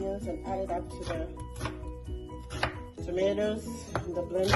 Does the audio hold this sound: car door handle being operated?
no